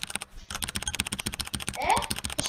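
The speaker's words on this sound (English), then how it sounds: "I just had my mic on my keyboard" Computer keyboard typing picked up close by a microphone resting on the keyboard during a Minecraft speedrun session: rapid, continuous clattering keystrokes across the whole clip, loud and near, with no other sound over it.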